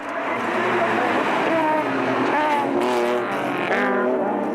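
Several tuned race cars launch together at the start of a race, a dense, loud blend of engines roaring and climbing in pitch as they surge toward the first corner, continuous and close throughout.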